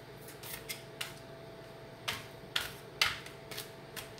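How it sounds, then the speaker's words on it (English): A deck of tarot cards is shuffled by hand, giving a series of close, crisp clicks and light snaps at irregular intervals, quiet and with no talking. "Two more cards for you here if I can ever get these shuffled."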